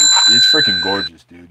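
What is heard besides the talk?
phone notification ding for an OfferUp offer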